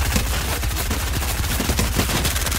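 A submachine gun in a video game fires a loud, continuous rapid burst of closely spaced shots lasting the whole moment, with no talking over it.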